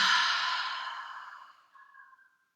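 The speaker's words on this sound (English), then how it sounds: "Take a deep breath in through the nose and exhale through the mouth." A single deep exhale through the mouth during a yoga practice for anxiety, close and breathy, loudest at the start and fading gradually, ending in a soft sighing tail.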